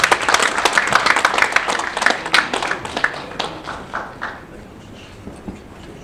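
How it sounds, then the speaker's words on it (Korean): Audience applause at a business breakfast forum as a speaker is welcomed to the podium, brisk loud clapping from a room of people that thins out and dies away over several seconds. "여러분 큰 박수 부탁드리겠습니다."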